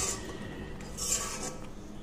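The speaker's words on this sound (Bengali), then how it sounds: "এরপর এটা আমি ভালোভাবে একটু নাড়াচাড়া করে নেব।" Fried paneer stirred in a pan, a short stretch of soft scraping and faint metallic clinks over a steady low background.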